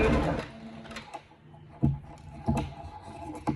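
A sewing machine stitches the hem of a stretch skirt, a quick burst of close mechanical whirring at the start, then a few short clicks and taps from the machine as the fabric is handled.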